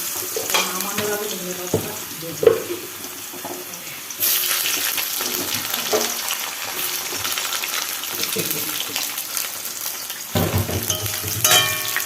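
Cut potatoes frying in hot oil that was tempered with radhuni seeds, heard as a continuous sizzle with a sudden louder surge of crackling and bubbling partway through. Utensils clink now and then, and faint voices occur in places.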